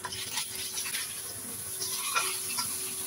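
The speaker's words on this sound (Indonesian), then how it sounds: "setelah minyaknya benar-benar panas kita goreng ikannya goreng sampai bagian kulit ikannya kuning kecoklatan" Fish frying in fully heated oil until the skin turns golden brown, giving a steady, close crackling sizzle that runs throughout with no talking.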